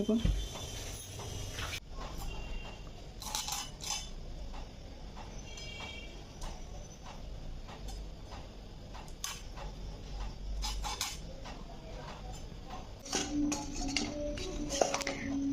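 Small mixed fish of four or five kinds being cut with a knife in a home kitchen, giving a run of close, sharp ticking and tapping strokes at an uneven pace over a steady low background.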